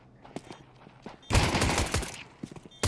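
Gunfire in a shooter video game: a few scattered shots, then a loud, dense volley of rapid shots for under a second before scattered shots return.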